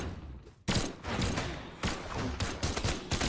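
Rapid bursts of gunfire in the Brawlhalla fighting game, sharp loud cracks in quick strings after a brief quiet moment, continuing with several later punches of sound.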